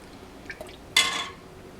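Broth from a turkey vegetable soup is ladled into a bowl, making one brief liquid splash and pour after a couple of faint clinks, quiet and close.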